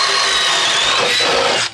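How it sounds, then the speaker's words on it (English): A DeWalt cordless drill on a 5-amp-hour battery drives a 1-inch Bosch Daredevil spade bit into a 2x4, giving a loud, steady high-pitched whine that holds for the whole stretch and cuts off abruptly at the end. "a 1-inch Bosch Daredevil bit going into a 2x4"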